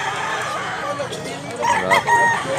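A Boston Roundhead rooster with green legs crows near the end, the call rising over a noisy background of other fowl clucking in a Cebu yard.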